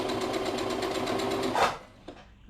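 A sewing machine stitches on scrap fabric with a steady rapid mechanical whir that runs close and loud, then stops abruptly, followed by a small click.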